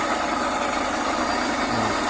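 A small secondhand machine tool with a three-phase electric motor runs steadily, giving a loud, close, continuous hum and buzzing vibration with no change in pitch and no speech.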